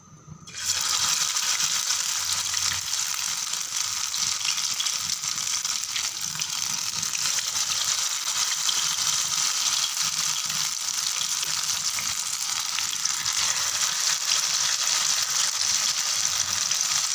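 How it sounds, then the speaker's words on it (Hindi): Bread samosa nuggets coated in maida batter fry in hot oil, a loud, steady, dense sizzle that starts abruptly after a brief quiet moment and holds evenly throughout, with no voices. "इसको भी हम इसी तरह मैदे में डिप करेंगे और फ्राई करते जाएंगे।"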